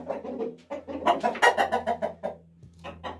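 A rooster in a coop gives a quick series of close, loud clucks and short calls that rise and fall in a choppy rhythm, with brief pauses between bursts.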